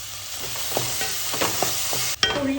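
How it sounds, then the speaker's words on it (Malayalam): Chopped onion and tomato sautéing in a pan, a steady sizzle broken by repeated scraping strokes of a spoon stirring, ending with a sharper clatter near the close. "ഇതിലേക്ക് കുറച്ച് തക്കാളി ഇട്ട് കൊടുക്കാം ഉള്ളി വഴണ്ട് വന്നിട്ടുണ്ട്"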